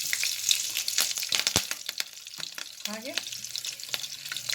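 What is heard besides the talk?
green chillies frying in oil in a pan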